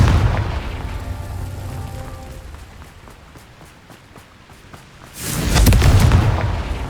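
A Confringo fire spell in the video game Hogwarts Legacy bursts with a loud, deep booming explosion near the end, following a quieter stretch of low rumbling and ambient game sound, with no voices.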